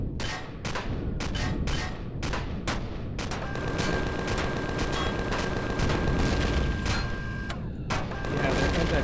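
Anti-personnel turret gunfire in the Empyrion Galactic Survival game, loud rapid bursts of shots, then a dense continuous stream of fire with a thin whine running beneath.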